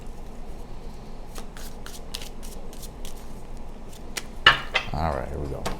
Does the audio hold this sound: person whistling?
no